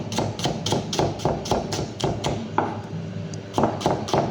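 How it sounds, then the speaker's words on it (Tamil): A knife chopping small shallots (sambar onions) on a cutting board for a red chili chicken dish, a steady run of close, crisp thuds about twice a second with a brief pause midway. "ஸோ 100 கிராம் சின்ன வெங்காயத்தை இந்த மாதிரி குட்டி குட்டியாக ஸ்லைஸ் பண்ணி எடுத்துக்கணும்"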